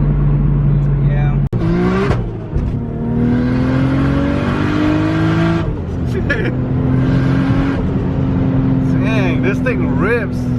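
A 640 wheel-horsepower Nissan S15 Silvia engine revs hard and climbs through the gears, its pitch rising in long sweeps with a loud roaring whine throughout.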